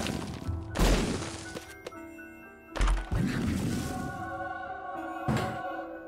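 Bombs go off in The Binding of Isaac Repentance with three heavy, booming blasts spread a couple of seconds apart, each trailed by ringing game tones, loud and near.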